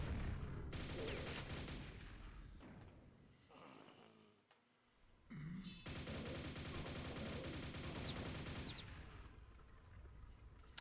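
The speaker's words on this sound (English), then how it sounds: "So I'm just doing a little low-intensity gaming here. Shooting dudes." Gunfire in a shooter video game comes as long stretches of rapid, dense automatic shots, loud and continuous, broken by a brief quiet gap before the firing resumes.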